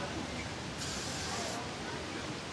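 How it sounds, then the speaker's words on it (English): Hairspray hisses from an aerosol can onto sectioned long hair for about a second, a steady close spray over quiet background noise. "and then spray it"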